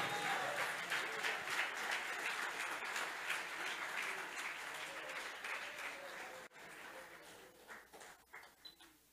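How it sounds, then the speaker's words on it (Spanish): Congregation applauding during a church service, a dense wash of clapping that carries steadily, thins briefly near the end, then returns in uneven bursts. "Quiero que alguien aplauda fuerte al Rey de Reyes y Señor de Señores"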